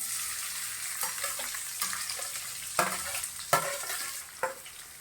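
Sliced onions and green chillies fry in a pan for a prawn thokku, a steady close sizzle broken by several sharp scrapes and clacks of a spatula as the pieces are turned.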